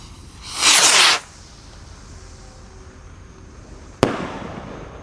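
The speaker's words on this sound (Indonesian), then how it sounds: "Gold Dragon Rocket. Segini guys ukurannya guys. Ini sangat tinggi sekali meluncurnya." A Gold Dragon Rocket firework launches on New Year's Eve with a loud whooshing hiss lasting about half a second, then quiet, then a single sharp crack a few seconds later, heard without talk.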